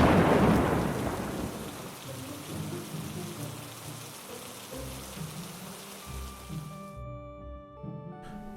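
A night thunderstorm with steady heavy rain, a loud close thunder crack at the start rolling into a long rumble, then rain continuing alone until a quieter tail with a faint sustained tone.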